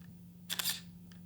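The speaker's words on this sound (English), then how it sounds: "I absolutely loved the sound of this camera, the shutter." An Olympus E-620 DSLR fires its shutter once, a crisp double-clack of mirror and shutter close to the microphone over a steady low hum, with a faint second click trailing after.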